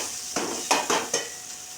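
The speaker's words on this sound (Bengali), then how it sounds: "আমরা আর একটু ভালো করে নাড়বো" Ghugni with potato and sugar being stirred in a pan, giving four scraping, sizzling spoon strokes at an even pace over a steady background hiss, with no voices.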